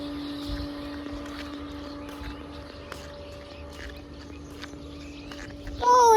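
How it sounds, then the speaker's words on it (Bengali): An engine runs at a river-view resort, a faint, steady low hum with a constant tonal drone and light background noise throughout. "এটা ইঞ্জিনের শব্দ হচ্ছে।"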